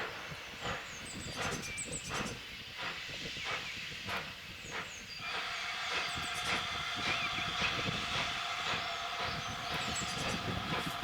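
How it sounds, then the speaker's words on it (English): GWR steam locomotive 2999 Lady of Legend departs Crowcombe Heathfield on the West Somerset Railway on a foggy morning, wheezy rhythmic chuffs and steam hiss at moderate distance, the beat quickening and growing fuller as it pulls away. "a wheezy number 2999 Lady of Legend heads away from Crowcombe Heathfield with the first departure of the day"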